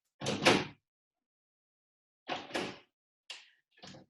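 A door handle is turned to imitate a gun being reloaded, giving a pair of short mechanical clacks, a pause, then another pair and two quicker clicks, close and crisp in a quiet room.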